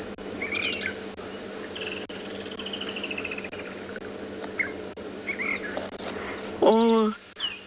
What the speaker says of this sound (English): I can hear the drongo and see the drongo.